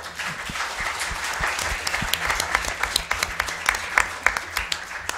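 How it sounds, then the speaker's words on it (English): Audience applause for panelists at the close of a community forum evening, a moderately loud crowd clapping that thins toward the end into individual sharp claps. "one more round of applause for them"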